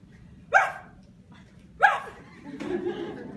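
A storyteller's voice imitates a small dog yapping at a bush, giving two sharp, high barks followed by a lower drawn-out vocal sound, heard close and clear over a faint room murmur.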